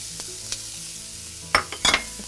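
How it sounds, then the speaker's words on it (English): Diced onion hitting melted butter in a pan, a soft steady sizzle with a few scraping stirs and clicks near the end, close and brief. "melt the butter, and to that we're going to add 1 diced onion"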